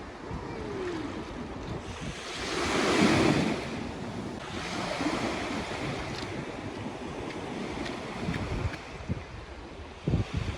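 Waves wash onto an island beach in India as a continuous surf roar, swelling in one louder surge early on, with gusty wind buffeting the microphone throughout.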